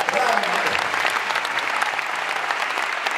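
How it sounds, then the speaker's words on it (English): Live show audience giving steady, full applause for the sound engineer, dense continuous clapping with faint voices mixed in. "A big applause for Matteo, for the sound engineer"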